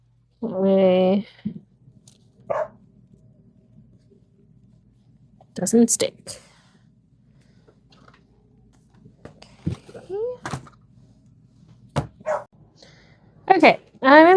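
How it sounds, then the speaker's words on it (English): A dog barks in a few sharp bursts with a whimper between them, heard indoors during quiet book repair work, with a person talking in between the barks. "Sorry about the dog."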